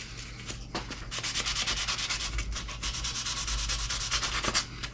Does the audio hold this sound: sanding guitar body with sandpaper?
yes